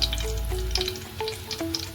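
Bombil fish frying in hot oil, a steady close crackle and sizzle with sharp spitting pops that flare and fade throughout, no voices.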